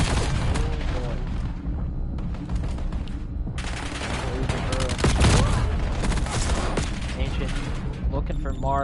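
Rapid gunfire and explosions sound from a Call of Duty Black Ops 7 tournament match, with dense overlapping bursts filling nearly the whole stretch. A commentator talks over the action without pause.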